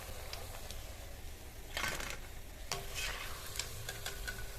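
Cauliflower pakoras for Manchurian frying in oil, a quiet continuous sizzle with two brief louder bursts of bubbling as pieces are moved, and a few faint ticks.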